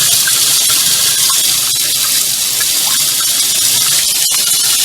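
Hot water gushing hard from a tap fed by a tankless water heater, a loud, steady rushing splash that runs continuously at close range with no talking.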